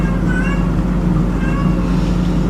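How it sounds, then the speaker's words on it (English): A cat meows in the background of a house, the cries faint and drawn out over a steady low hum, with no talk. "That's a cat in the background."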